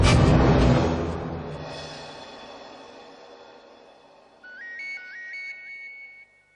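A loud crash or impact fades out, then a bright electronic phone ringtone starts, a short repeating melodic ring close by.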